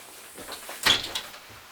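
A door opens on a film set, a single short knock-like clunk and rattle amid quiet room noise.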